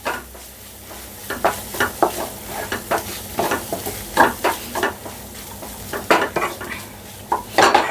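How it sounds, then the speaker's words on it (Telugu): Ginger garlic paste frying in oil in a pan, a soft sizzle punctuated by repeated scraping and clinking of a spoon stirring against the pan, irregular strokes close by, no talking. "ఇప్పుడు మనం ఒక 1/2 నిమిషం పాటు ఈ అల్లం వెల్లుల్లి పేస్ట్ వేపుకున్న తర్వాత"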